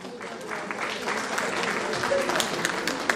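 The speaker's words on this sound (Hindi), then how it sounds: "तो जोरदार तालियां आप अपने लिए बजाइए" Crowd applauding at a women's rights program event in Haryana, a steady, fairly loud patter of many hands clapping that continues evenly for the whole stretch.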